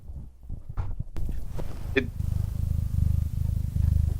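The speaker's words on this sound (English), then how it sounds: "that's a loud ass purr" A deep, rumbling cat purr close to the microphone, a steady low rhythmic throb that grows louder, with some brief handling noises early on.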